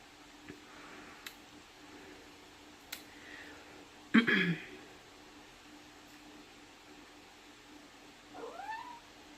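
A house cat meows in a quiet room: a loud, wavering cry in the middle and a softer, rising meow near the end, with a few faint ticks and clicks between them.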